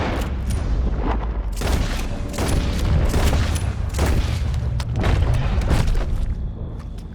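Gunshots ring out in a series of loud, sharp blasts, several spaced bursts with heavy booming low end over continuous rumbling background noise.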